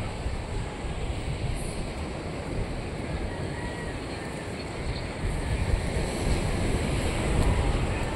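Sea waves washing onto the shore on a morning beach, a continuous roar of surf mixed with wind buffeting the microphone, building slightly louder toward the end.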